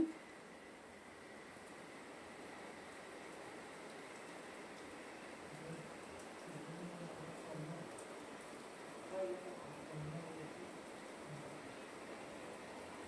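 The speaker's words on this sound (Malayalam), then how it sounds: "നല്ല മഴയാണ് കേട്ടോ" Steady rain falls during a family drive through Wayanad, a soft, even hiss of drops on the vehicle, faint and continuous with a few low bumps and murmurs underneath.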